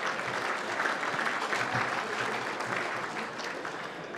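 A crowd at an awards night for the Chandler Medal claps in a steady, sustained round of applause, with a faint voice audible underneath the clapping.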